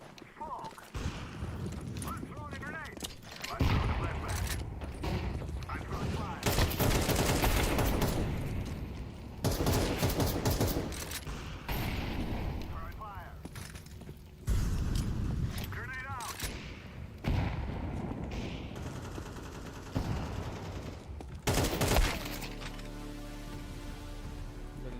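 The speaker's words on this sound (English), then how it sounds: "I'm throwing a grenade. I'm throwing a flashbang." Grenades and a flashbang go off in a multiplayer shooter video game. Several loud, heavy bursts land among rattling gunfire and crackling noise, with a player talking over the action.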